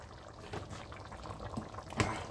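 Madesu beans simmer in a pot with fish, giving a soft, continuous bubbling with a few louder pops near the end. There is no talking.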